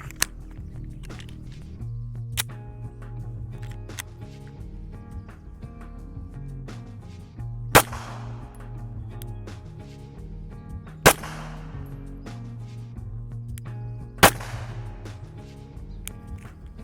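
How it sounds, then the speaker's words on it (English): SIG P365 XL pistol firing defensive hollow point rounds at a Level IIIA bulletproof vest: three sharp, loud shots spaced a few seconds apart over steady low background noise, with a few fainter impacts earlier. "SIG P365 XL, 3 different loads of basically defensive hollow point ammo."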